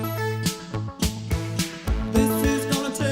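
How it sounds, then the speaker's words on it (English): A cello lays a counterpoint melody against vocalists within a recorded song arrangement, its bowed line running steadily under the singing amid other accompanying instruments. "the cello plays quite a nice counterpoint melody to the vocalists,"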